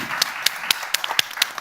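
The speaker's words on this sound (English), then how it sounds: "Let's give them an applause." Scattered, evenly spaced hand claps come from a small audience at a Europe forum held in a theatre. They are fairly close and crisp rather than a dense roar.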